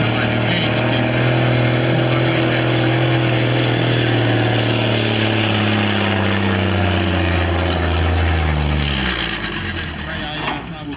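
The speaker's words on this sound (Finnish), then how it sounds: "Ja kierroksia koneeseen ja sitten matkaan tekoon." A race truck at a truck pulling event in Finland revs its engine and pulls away: a loud, continuous mechanical roar whose pitch slowly shifts as it strains forward, easing off near the end.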